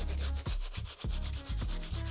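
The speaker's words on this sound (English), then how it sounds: "I can go ahead and just proceed using our medium all-purpose brush" A medium bristle brush scrubs a Reebok sneaker midsole in quick, rhythmic back-and-forth strokes, close and raspy, with about five distinct passes.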